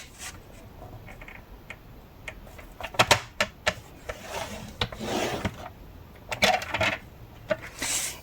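A paper slim card being creased and folded: scattered crisp rustles, taps and sliding scrapes of paper, quiet and close, with several sharper crackling bursts as the folds are pressed.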